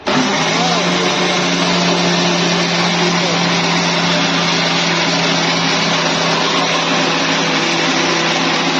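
Wet grinder grinding soaked rice into chakuli pitha batter, a loud steady motor whir with a low constant hum, unbroken and close.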